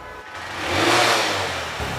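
A motorcycle engine revs up from idle to a brief high-pitched roar, then settles back, heard up close.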